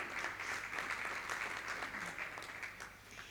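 Audience at an architecture networking event in a Porcelanosa showroom in Huelva gives a round of applause, steady mid-distance clapping that tapers slightly at the end, with a faint hum beneath.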